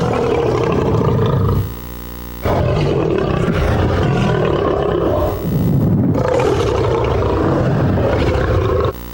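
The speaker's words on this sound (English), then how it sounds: "And the roar of a lion makes you know, trouble." A lion roars loudly and repeatedly, deep rumbling bursts filling the clip with a short lull between roars, close and powerful.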